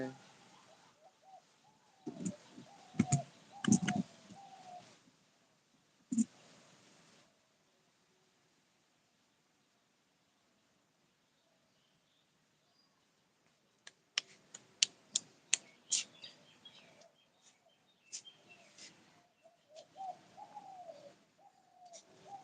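Soft pigeon coos come and go among rustling, clicks and wing taps, with a long quiet stretch in the middle and occasional voices.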